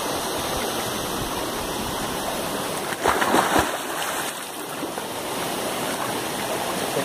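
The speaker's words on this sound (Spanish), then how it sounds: "este es el río Cañaveralejo, y Cuco como camarógrafo nos muestra cómo está el río" Steady rushing water of the Cañaveralejo River in Cali, Colombia flows continuously, a broad even roar close by, with a brief louder surge in the middle.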